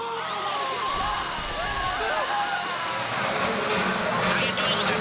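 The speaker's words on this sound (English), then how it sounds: "How you doing with that drill?" A power drill in the GTA V video game grinds steadily into a box during a heist, whining continuously throughout under a busy mix of game sound and voices.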